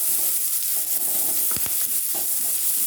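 Carrot and green chili stir-fried on a high flame for a kids' lunch box, a loud continuous sizzle with a couple of brief spatula knocks midway.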